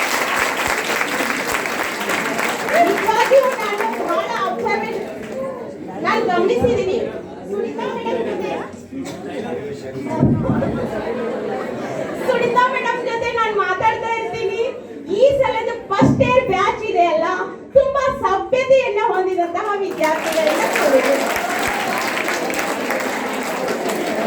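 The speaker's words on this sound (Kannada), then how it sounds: "ಈಗ ಚಪ್ಪಾಳೆ ತಟ್ಟಿದಿರಿ" Hall full of students applauding at a college welcome event for new students, sustained clapping from a large nearby crowd that swells, thins briefly with some chatter, then returns at full strength.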